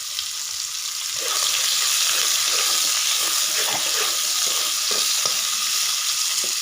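Pointed gourd fries in hot oil tempered with whole cumin, bay leaves and dried chili, giving a loud, steady sizzle with occasional stirring clicks close by.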